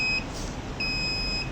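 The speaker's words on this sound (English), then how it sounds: "so it's 100 centimeters below, so it is giving the beep" Buzzer on an Arduino signboard detection system sounding two short, clear electronic beeps separated by a brief pause, close and alone over faint background hiss.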